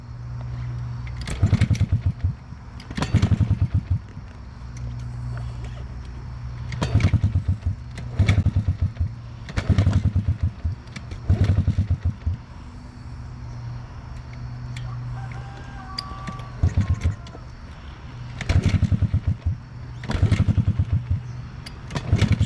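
A small quad or dirtbike engine with the choke on, cranked repeatedly in short bursts of clattering starter and sputtering that never catch, with pauses between attempts and voices nearby.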